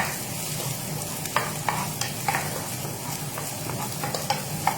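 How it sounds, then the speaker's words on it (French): Onions frying over medium heat in a pan, a constant close sizzle broken by regular light clicks of a utensil stirring, with no voices. "On baisse un petit peu le feu, effectivement. Les oignons à feu moyen."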